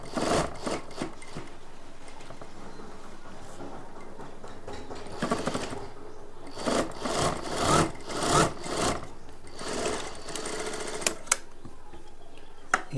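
A sewing machine stitching a simple blouse runs in short bursts of rapid mechanical chatter, separated by pauses and small handling clicks, close and moderately loud.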